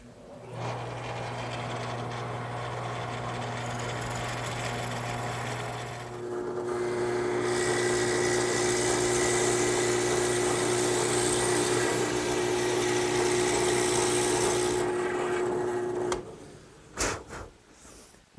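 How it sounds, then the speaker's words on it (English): A 5-in-1 tool boring a hole about six inches deep in wood for a garden swing, a steady whining motor drone that shifts to a higher, louder grind partway through, then stops with a few clunks. "Now I'll just bore a hole about 6 inches deep."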